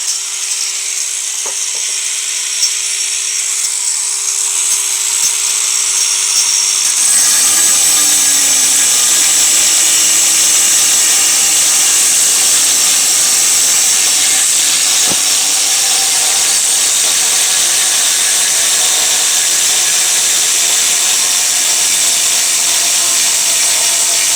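Rizachok and Proxxon rotary engravers spin Proxxon cutting discs against ceramic tile: a loud, continuous high whine with grinding hiss that runs throughout, the pitch shifting as the cut begins, with no talk.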